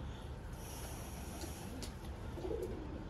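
Young pigeons cooing softly nearby, a few low murmuring coos against a quiet background hum, with no talking.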